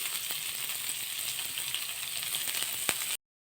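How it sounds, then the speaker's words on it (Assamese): Onions sizzle in a hot pan together with capsicum and chillies: a steady, close, crackling fry that holds evenly for about three seconds, then cuts off. "তাৰপিছত পিয়াজ দি দিছোঁ সকলোখিনি একেলগে ফ্ৰাই কৰি লওঁ"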